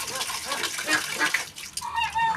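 Chickens and other poultry on a rooftop cluck and call in short bursts over a wet, splashing background, close by and moderately loud, with a voice briefly audible among them.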